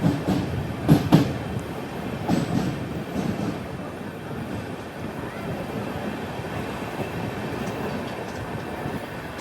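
An Amrit Bharat Express sleeper-class train on the Mangaluru–Thiruvananthapuram run rolls into Kayamkulam Junction, a steady rumble of rail cars with a few sharp knocks early on, then an even, continuous roar.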